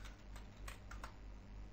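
A password is typed on a computer keyboard as a few quick, faint key taps in a short burst, alone against a low steady hum.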